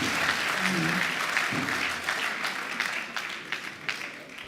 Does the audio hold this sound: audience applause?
yes